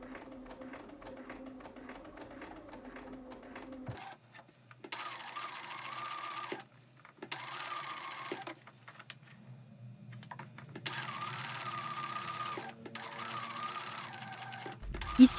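A sewing machine stitches a seam along a women's shirt collar, running in several sustained bursts separated by short pauses, close and steady at moderate loudness.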